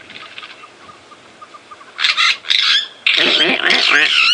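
Harsh, broken-up staccato calls of starlings, loud and close, arriving in choppy bursts after a quieter stretch of faint chatter, at Djuma Game Reserve in the morning.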